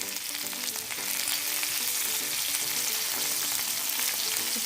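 Spicy chicken pieces fry on a tava with a steady, close, crackling sizzle throughout, fairly quiet and unbroken.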